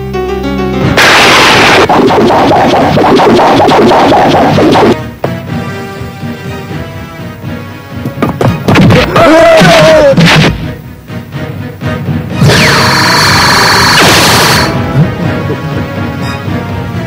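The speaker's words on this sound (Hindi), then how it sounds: "बैंक में से गोलियों की आवाज।" Gunfire rings out from inside a bank in a scene from the Shaktimaan TV show, with loud bursts of shots and blasts alternating with quieter gaps and noisy crashes.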